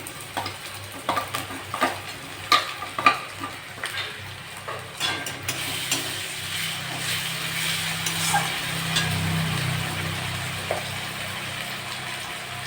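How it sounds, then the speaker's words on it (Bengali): Ginger-garlic paste hits browned onions in a pan for a jackfruit and potato curry, giving a bright sizzle with repeated spoon scrapes and clinks early on, settling into a steady frying hiss. "আমি আদা রসুন বাটা দিয়ে দেবো দু চামচ মতো"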